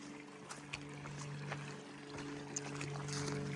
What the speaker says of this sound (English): All right, we got more water flowing.